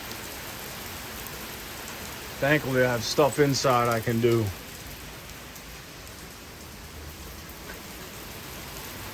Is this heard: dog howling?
no